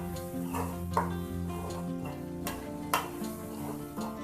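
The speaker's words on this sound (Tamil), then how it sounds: "பூண்டு வெங்காயம் எல்லாம் ரெண்டும் நல்லா வதங்குறதுக்கு தேவையான அளவு உப்பு சேர்த்துக்கலாம்." Garlic and onion sautéing in a pan for a Tamil dry anchovy fish curry, with soft sizzling and intermittent stirring clinks of a utensil against the pan, quiet and close.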